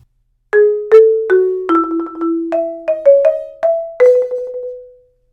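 Struck mallet notes ring out loudly one after another, a bright, hard-edged forte with sharp attacks and quick rolls, alone without talk.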